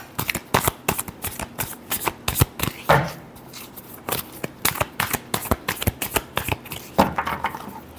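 Tarot cards are shuffled by hand during a Leo love reading, a rapid run of crisp riffling flutters and soft slaps that come close and fairly loud, in uneven bursts with short pauses between.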